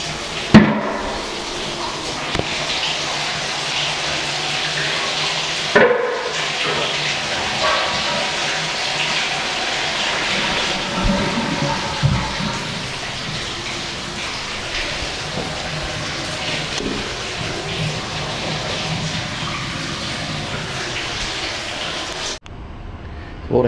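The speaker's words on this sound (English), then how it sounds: "we've got the water running out to the tub, and we've got water coming from the shower" Water runs steadily into a bathtub and sprays from a shower during a home inspection, a continuous broad hiss that stays loud and unbroken for most of the stretch before cutting off near the end.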